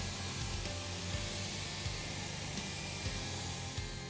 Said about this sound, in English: I did a second pass with the pressure washer and a 15-degree nozzle to see if it would do a better job.